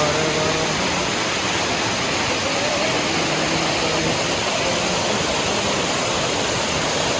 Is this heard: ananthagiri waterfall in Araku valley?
yes